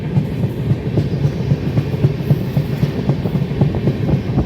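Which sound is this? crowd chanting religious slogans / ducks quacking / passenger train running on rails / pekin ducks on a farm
passenger train running on rails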